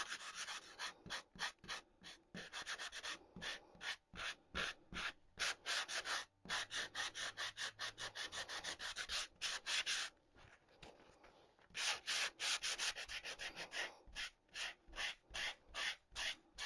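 A small hand-held sanding block is rubbed back and forth over wood in quick rhythmic scraping strokes, close and steady, pausing briefly a few times before resuming the same fast rasping pattern.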